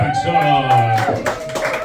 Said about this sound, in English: You clapped so fast